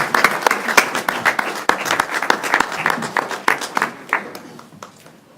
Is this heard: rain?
no